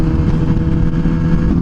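An MV Agusta SV 1000 Oro motorcycle being ridden, its engine droning steadily at a constant pace with low throbbing and wind rush, close and loud, no speech.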